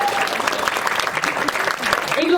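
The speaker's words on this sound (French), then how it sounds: "Veuillez les applaudir bien fort" An audience applauds a festival jury president in a steady, dense burst of clapping that fills the whole moment at close range, with no voices over it.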